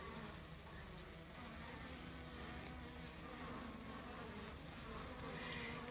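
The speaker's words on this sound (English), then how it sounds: "These are Italian bees." Italian honey bees buzz steadily around hive boxes of about ten thousand bees each, a dense close droning hum outdoors with no talk.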